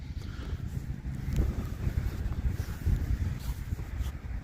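Wind blowing across an open RC flying field, a steady low rumbling buffet against the microphone with gusty swells and no talking.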